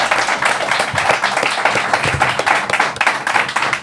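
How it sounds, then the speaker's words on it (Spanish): Studio audience at a live Spanish comedy podcast recording applauds and cheers, a dense, steady burst of clapping and whoops filling the room, loud and close, with no speech over it. "tenemos un público. ¡Un fuerte aplauso!"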